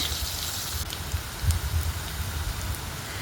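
Chopped onions dropped into hot oil seasoned with black cumin seeds hiss and crackle in a steady, dense sizzle with scattered pops, close and moderately loud.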